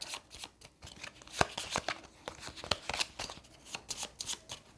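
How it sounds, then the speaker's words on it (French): A deck of game cards is shuffled up close, several quick riffling and slapping bursts in an uneven rhythm, with no talk. "Je mélange mon paquet."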